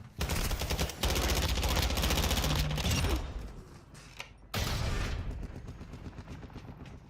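Video game gunfire, with several seconds of loud, continuous automatic fire, a brief lull, then another heavy burst of rapid shots.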